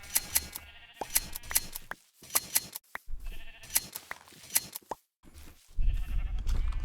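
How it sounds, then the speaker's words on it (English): Sheep in Minecraft bleating while being sheared, with repeated short bleats in quick bursts mixed with crisp snipping clicks and one brief pause, close and clear without talk. "I paused to shear my sheep"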